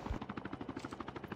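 Helicopter in the game Call of Duty Mobile battle royale, a close rhythmic rotor chop of rapid evenly spaced thumps, about eight beats per second, steady and moderately loud with no talking.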